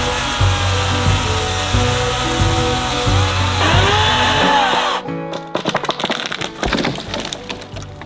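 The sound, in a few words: cutting through deadfall in a British Columbia forest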